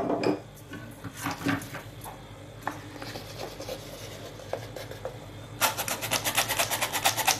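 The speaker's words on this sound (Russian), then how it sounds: "Все перемешаем." A whisk or spoon scrapes and taps in a bowl as choux bun batter is mixed, with irregular knocks early and a quicker rhythmic scraping near the end, close and fairly quiet.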